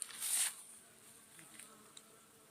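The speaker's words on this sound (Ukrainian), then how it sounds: "Як подивитися на пасіці бджоли злодіки" Faint buzzing of honeybees around a beehive at an apiary, with one brief louder buzz as a bee passes near at the start, then a quieter hum over a soft background.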